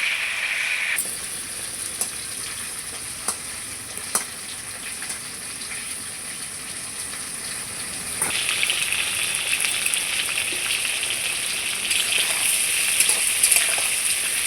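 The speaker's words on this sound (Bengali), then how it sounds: "দেখুন তেলের মধ্যে পটলটা কত সুন্দর করে ভেজে নিচ্ছি বন্ধুরা" Salted pointed gourd fries in hot oil with a steady, even sizzling hiss, close and unbroken, with a few small crackles and a slight rise in intensity partway through.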